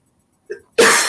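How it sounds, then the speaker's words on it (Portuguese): A single sharp, explosive cough from a woman, preceded by a brief intake of breath, loud and close in a quiet room. "Ai, perdão a tosse"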